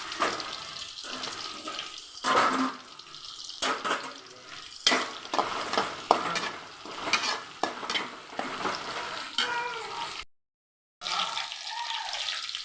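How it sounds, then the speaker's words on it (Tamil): Whole spices such as cinnamon, cloves, cardamom and pepper fry and get stirred in a pan for chicken varuval, a steady close sizzle with repeated stirring scrapes throughout, briefly cutting out near the end. "பட்டை, லவங்கம், ஏலக்காய், மிளகு, ப்ரௌன் கலர் ஆகிற வரைக்கும் வறுத்துக்கோ."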